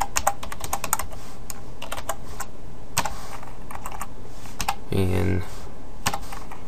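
Code is typed on a computer keyboard in quick bursts of sharp key clicks, close and clear, with a single spoken word partway through.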